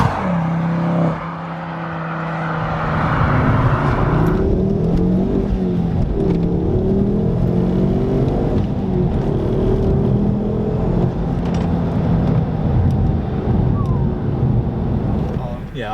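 A Ford Focus ST accelerates hard while driving, its engine note climbing steadily in a continuous cabin drone mixed with road and wind rush, with a person talking over it.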